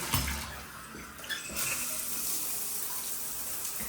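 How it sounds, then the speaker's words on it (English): Water runs steadily from an older shower head in a mid-2000s San Francisco hotel bathroom, a full, hissing spray with strong pressure and a brief louder splash near the start. "Older shower head with really nice water pressure."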